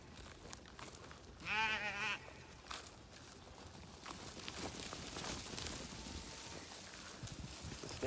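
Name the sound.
sheep bleating at feeding time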